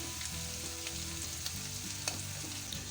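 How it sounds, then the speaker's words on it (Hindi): Spices sizzle and crackle steadily in a hot pan, with a few small pops and light stirring scrapes, close and continuous, while cooking flat beans and potato. "5 मिनट हो गए इसे फ्राई करते हुए"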